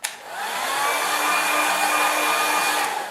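A hair dryer blows steadily over a watercolour landscape painting, a close, continuous airy roar that starts abruptly and holds level for about three seconds with no voices.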